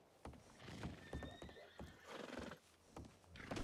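A horse neighs and whinnies in a Western roleplay video game, with clip-clop hooves and short loud bursts repeating over a steady background.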